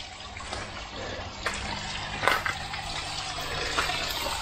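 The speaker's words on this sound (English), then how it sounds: "there's a bit of water coming through" Water trickling and gushing through aquaponics grow beds, a steady low wash with a few brief splashy surges, fairly quiet and with no talking.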